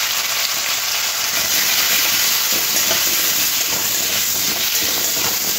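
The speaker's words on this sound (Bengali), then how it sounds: "এই তেলের মধ্যে আলুর টুকরোগুলো একটু লাল লাল করে ভেজে নিতে হবে" Potato pieces fry in hot oil, a loud, close, unbroken hissing sizzle that stays even from start to finish.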